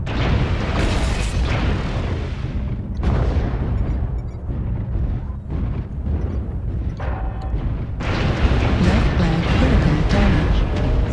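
Heavy explosions boom continuously as mechs are destroyed in MechWarrior Online combat, a dense, loud roar of blasts and rumbling impacts with brief surges and no pauses.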